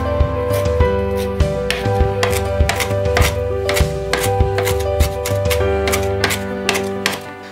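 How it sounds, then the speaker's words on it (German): Wild garlic being coarsely chopped with a knife for hummus. A steady series of close, crisp blade strikes against a cutting board, evenly paced throughout. "Den Bärlauch grob hacken"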